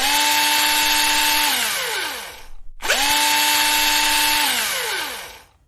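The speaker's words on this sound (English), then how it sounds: "Okay, I'll need to drill this clock onto the bike without damaging them." Power drill driving into a clock being fastened onto a bike: two long, loud, steady whirring runs that wind down at the end, with a brief gap between them and no voices.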